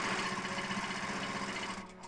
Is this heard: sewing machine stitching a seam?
yes